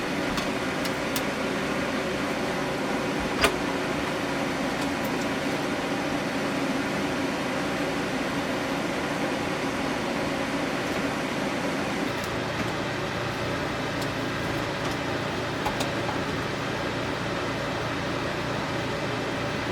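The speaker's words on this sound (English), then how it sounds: "I'm going to let that generator run for 2 hours, just make sure it doesn't kick off or anything" A generator runs continuously in the background, a steady, even mechanical hum with no speech over it and only faint occasional clicks.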